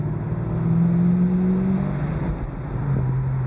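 A 1988 Ford Mustang LX 5.0 convertible on a test drive gives a steady low engine drone. The pitch eases down as the throttle backs off, loud and close throughout.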